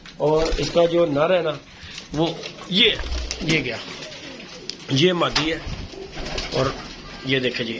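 Pigeons cooing in a loft where a breeding pair and another hen sit, soft repeated coos mixed with wing rustles, close by and heard under steady talk from a man describing the birds.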